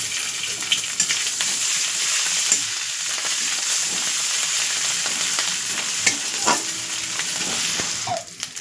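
Chopped ginger frying in oil alongside garlic for a homemade tarka, a loud continuous crackling sizzle up close with occasional spatula scrapes and pops throughout, no voices.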